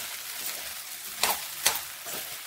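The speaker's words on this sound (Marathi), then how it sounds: "मस्त ह्याला हलवून घ्यायचं आता असं बारीक गॅसवर." Sabudana (sago) stirred in a pan over low heat, a continuous soft frying hiss with two sharp scraping strokes of the spoon, close and without talk.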